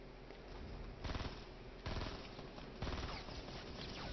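Gunfire in Fortnite, with rapid bursts of automatic shots in three separate volleys of a few rattling rounds each, sharp and fairly loud over a constant background hiss.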